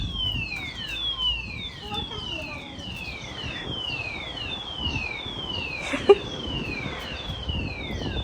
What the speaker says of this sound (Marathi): आणि हा फायर अलार्म सगळा आवाज करतोय सगळीकडे